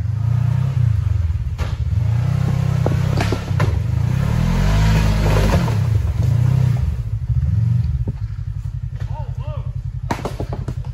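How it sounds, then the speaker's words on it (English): A long-travel Kawasaki KRX off-road vehicle works along a Windrock trail. Its engine is loud and close, with revs rising and falling repeatedly before it settles into a rough, pulsing idle. "Here comes the KRX on long travel."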